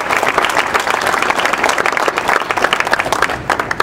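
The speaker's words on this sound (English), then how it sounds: "give yourself a round of applause" An audience at an APTA event bursts into sustained applause, dense overlapping claps filling the room at steady loudness for several seconds with no speech over it.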